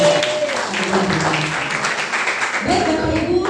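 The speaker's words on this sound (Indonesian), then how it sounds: "Tepuk tangan bagi Tuhan." A church congregation applauds during a Christmas service, a dense burst of clapping that rises and carries on under voices and musical tones.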